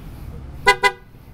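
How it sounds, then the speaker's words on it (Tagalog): Two short, loud beeps sound in quick succession from a motorcycle fitted with a PIA horn and a stock horn, standing out clearly over quiet background noise. "Isang PIA horn at isang stock."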